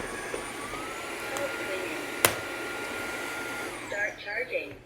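A Tineco S5 Pro or UWANT D100 wet dry vacuum sits in its dock running a self-cleaning cycle, giving a steady whirring motor hum with a sharp click midway and gurgling at the end, under someone talking.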